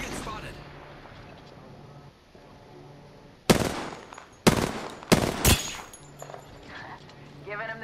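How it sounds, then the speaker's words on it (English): Bursts of gunfire in the shooter game Apex Legends ring out loud and close, several sharp volleys in quick succession over a quieter background with some game chatter. "Getting shot at."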